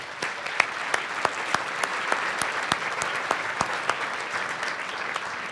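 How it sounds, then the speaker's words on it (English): Steady round of applause from a gathered audience at an awards presentation, a dense wash of clapping with a few sharp, louder claps standing out near the front. "Can we give her one more round of applause?"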